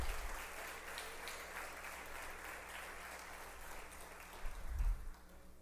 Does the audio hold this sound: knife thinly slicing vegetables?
no